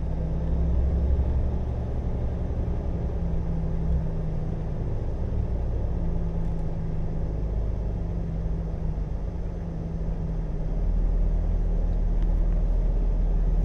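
From inside the cab, a truck rolls along a road with a constant low engine rumble and road drone, steady and close for the whole stretch, with a slight dip partway through and no speech.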